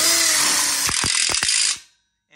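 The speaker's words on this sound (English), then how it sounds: "And now we'll go ahead and screw those in." Cordless drill whirring as it drives screws into a ConnecTubes coupler on an outdoor kitchen corner module, a loud close buzz with a few clacking pulses near the end before it stops abruptly, no talk.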